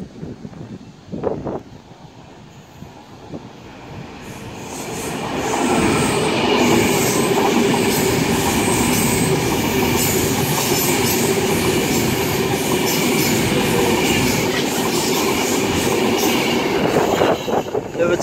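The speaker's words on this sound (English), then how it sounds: "key passing through now is going to be a Pendolino from Glasgow Central to London Euston" A Pendolino express from Glasgow Central to London Euston rushes through Carstairs station, building from a quiet start into a loud, sustained roar of wheels and rushing air lasting well over ten seconds, with faint squeal and clatter.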